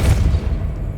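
A force spell cast in Hogwarts Legacy lands as a brief booming thud, followed by a low rumbling tail that fades over about a second, with no voices.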